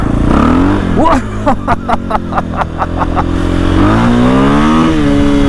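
A KTM 500 EXC-F motorcycle fitted with an FMF pipe and GET ECU revs up loudly nearby, engine pitch rising and falling through gear changes with a rapid series of sharp pops and crackles in the middle.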